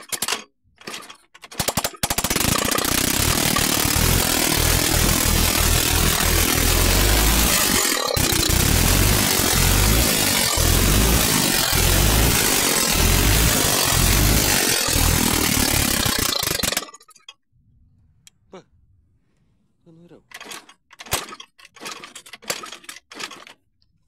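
A Chinese GY6 50cc four-stroke scooter engine fitted with a 125 carburetor revs hard, a loud sustained rattling buzz lasting about fifteen seconds, then drops to a low idle with a few short blips of throttle.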